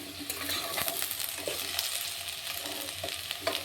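Green chillies and spices frying in a pan for a coconut vegetable curry, a low steady sizzle with brief scraping stirs and small clinks, close but fairly faint, no talking.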